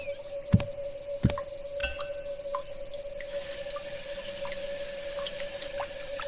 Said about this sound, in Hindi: उसने अपना चेहरा धोया